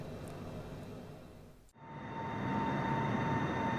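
A Citation business jet climbing under heavy power in Microsoft Flight Simulator produces a steady roar with a thin whine. The roar dips briefly for an instant, then returns and swells louder and fuller.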